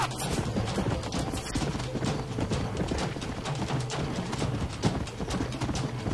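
Horse hooves galloping in the Red Dead Redemption video game. A loud, continuous, fast pounding clip-clop is mixed with dense game noise throughout.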